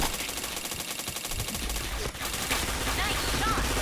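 Continuous automatic gunfire in the shooter game PointBlank, a dense rattling stream of shots close and loud, with a voice briefly speaking over it.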